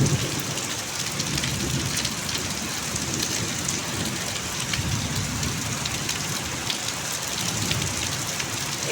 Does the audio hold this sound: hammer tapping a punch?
no